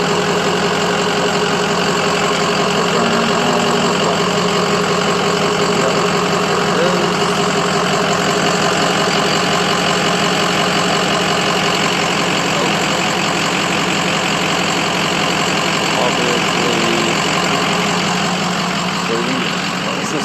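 A warmed-up Ford 6.0 diesel truck engine idles with a steady, even rumble and faint rhythmic knock, loud and close, running continuously without change.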